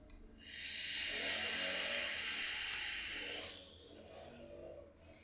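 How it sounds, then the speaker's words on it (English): A lawnmower runs nearby, a steady, faint engine drone that swells for a few seconds and then eases off without stopping. "Stupid lawnmower."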